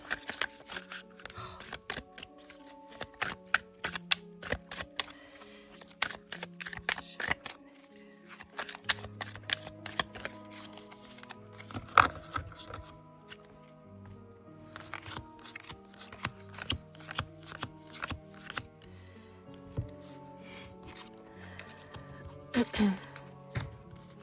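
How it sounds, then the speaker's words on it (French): Tarot cards shuffled by hand at close range, a long series of crisp riffling and slapping bursts with brief pauses and soft handling rubs between them. "On commence tout de suite avec le mélange des cartes."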